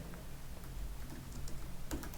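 Steady typing on a computer keyboard while editing text in PowerPoint, a quiet, close run of uneven key clicks continuing throughout with no voice.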